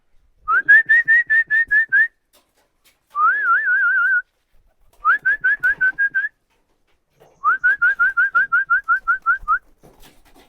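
A man whistles repeatedly to call his flock of pigeons home, sounding four loud, close bursts of rapid trilling whistle notes separated by short pauses, with no talking.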